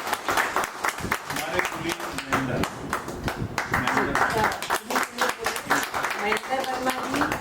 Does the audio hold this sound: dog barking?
no